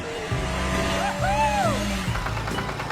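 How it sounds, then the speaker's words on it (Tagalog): Cartoon red toy car speeding off, a buzzing engine tone with a rising and falling whoosh sweep, fairly loud and steady for a few seconds, ending in a brief rough rumble. "Mabilis na umandar ang kotse."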